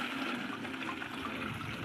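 Water poured out for pet pigeons, a steady splashing and trickling that runs on without a break at a modest level, with no talking.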